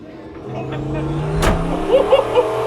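A 1967 Ford F100 with a twin turbo engine revs at about quarter throttle outdoors at a car show, a rumbling engine note with a sharp burst midway and a few short pulses after, while people talk nearby.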